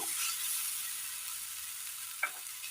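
Tomatoes sautéing in a pan until wilted give a steady, soft sizzle with a faint stir or scrape near the end; no voices.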